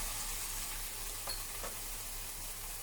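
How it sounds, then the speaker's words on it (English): Soft, even sizzle of whole mustard seeds frying in a pan while making lemon rice, faint and steady with a couple of small pops. "keep fry it for 2 minutes"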